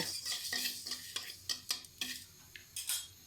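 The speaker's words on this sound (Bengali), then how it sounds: "টক ফল চাটনির জন্য প্রথমে ভেজে নিচ্ছি পাঁচফোড়ন" Panch phoron five-spice mix dry-fried in a kadai for sour fruit chutney, a spatula scraping and stirring the seeds in quick repeated strokes, close and crisp, with no one talking.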